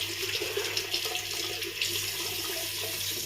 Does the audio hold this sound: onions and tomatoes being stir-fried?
no